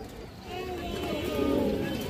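Large domestic pigeons in molt cooing in a loft, a soft, low rolling coo swelling toward the end against constant background hiss.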